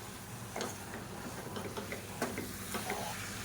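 Boneless chicken being sautéed in a pan for a Tamil kuzhambu, a soft steady sizzle with scattered stirring taps and clicks, close but fairly quiet.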